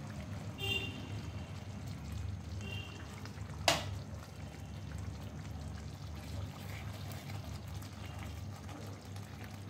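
Half a spoon of butter melting into paneer butter masala gravy in a pan, a soft low sizzle and bubbling with a faint clink of a spoon, quiet and steady throughout.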